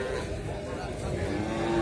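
Simmental cattle calves at a livestock market in Magelang, Indonesia, lowing faintly amid a busy crowd murmur and background chatter.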